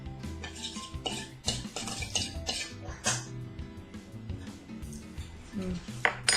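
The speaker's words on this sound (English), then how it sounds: "We're going to whisk this all up" Olive oil and vinegar dressing being whisked in a bowl, with quick irregular clinks and scrapes of the whisk against the bowl, close and moderately quiet, with a brief murmur of talk.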